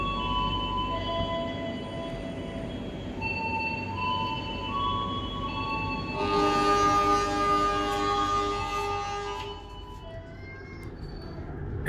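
A Sawunggalih economy-class passenger train on the Cirebon–Jakarta run rumbles steadily from inside, with low continuous rolling noise, tonal squeals and a brighter burst of rail screech partway through.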